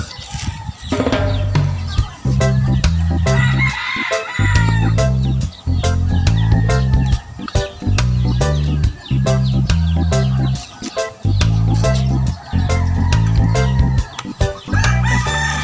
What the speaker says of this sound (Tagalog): magpapakain tayo ng mga manok mga kasabong